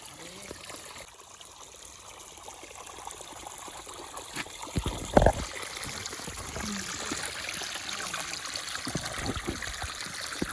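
A river at a farm in the evening flows with a soft, continuous trickling wash, faint and distant, broken once by a brief close handling thump.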